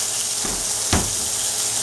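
Steak coated in DW's original rub sizzling in a hot skillet, a steady close hiss with two brief louder bursts of spattering.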